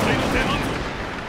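Gunfire from the feudal Japanese strategy game Nobunaga's Ambition: Awakening, a dense, loud crackle of shots filling the whole short burst without pause.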